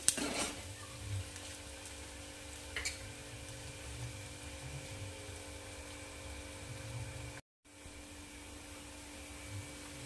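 Chopped onion sizzles steadily in a pan over medium heat as it is stirred toward golden for rajma masala, a soft, even hiss under a low hum, with a brief dropout near the end.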